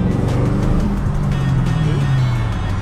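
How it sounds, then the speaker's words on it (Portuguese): A modified Chevrolet Camaro engine drones loudly and continuously as the car accelerates, its low rumble rising steadily in pitch with strong road and wind noise. "Esse Camaro não tá original, Thiago."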